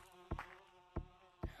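Water bees buzz in Gorilla Tag during its spring update, a steady droning hum broken by three sharp, loud bursts spaced roughly half a second apart.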